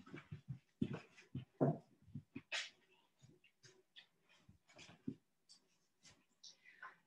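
A puppy shuffles about on a yoga mat in a quiet room, with soft rustling, faint whimpers and breathy sounds coming in short, irregular bursts close by.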